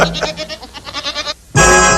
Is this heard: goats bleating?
yes